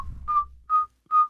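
A person whistles a simple, catchy melody at a fast tempo, three short clear pure notes in a quick, even rhythm, close and alone.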